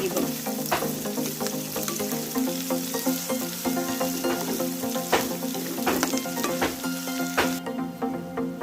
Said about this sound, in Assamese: মই এয়া কাটি থোৱা পিঁয়াজখিনি দি দিম। আৰু মিডিয়াম ফ্লেমত ধুনীয়াকৈ ব্ৰাউন হোৱাকৈ ভাজিব লাগিব।